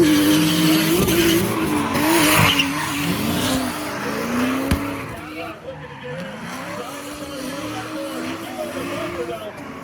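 A Cadillac CTS-V drift car in a bracketed drifting competition revs hard while its tires squeal and skid in long, wavering bursts, fairly close, with a commentator talking over it.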